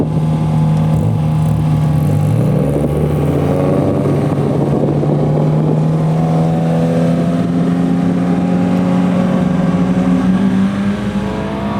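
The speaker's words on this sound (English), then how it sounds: "Race cars are making their way on the track now, apparently for practice" Race cars circle a speedway during practice, a loud continuous engine drone with whining pitch sweeps as cars pass and accelerate, heard from nearby with no talking.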